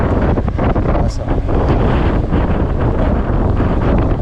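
Strong wind buffets the microphone in loud, continuous gusts outdoors in the Batangas countryside, a roaring rush with a faint higher sound briefly cutting through.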